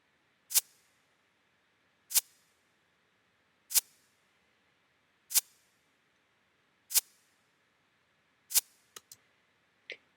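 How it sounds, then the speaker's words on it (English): A reversed hi-hat sample swells up into six evenly spaced sharp cutoffs, each fading in and stopping abruptly, followed by a quick cluster of three shorter hits at the end, alone and fairly quiet. "it's just a reversed hi-hat"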